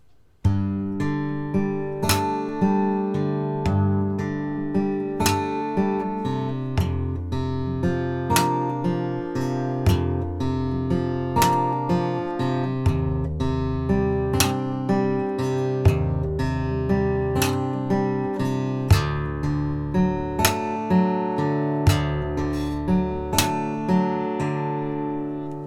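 Acoustic guitar arpeggio from a Metro 2033 song, picking the first and second strings together, a steady stream of evenly spaced plucked notes ringing clearly and close, played alone.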